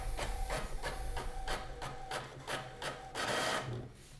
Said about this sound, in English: the paper will get printed with the Wi-Fi password of this printer.